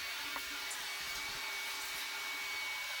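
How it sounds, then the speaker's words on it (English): A vacuum cleaner picking up drywall sanding dust in a room runs as a steady, faint, airy hiss and whine throughout, with no voices. "We're going to vacuum the room."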